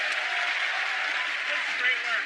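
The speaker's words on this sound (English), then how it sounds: "A small round of applause" Brief, light applause from a small audience at a magic show, a steady soft patter of clapping lasting a couple of seconds with a faint voice mixed in.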